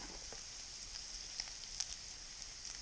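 Onions sizzling in a skillet alongside eggs for a frittata, a steady soft hiss of frying with faint crackles and pops, quiet and continuous with no talking.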